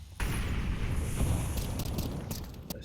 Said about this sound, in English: Flashbang down towards the top of ramp.